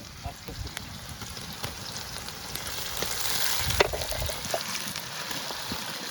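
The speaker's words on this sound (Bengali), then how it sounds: "বন্ধুরা টমেটো দিয়ে দিই কড়াই।" Tomatoes fry with onions in a wok over an outdoor fire in a forest, a dense, continuous sizzle with stirring scrapes and a low rumble, close and steady.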